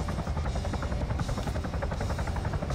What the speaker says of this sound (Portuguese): O helicóptero tá dando tiro neles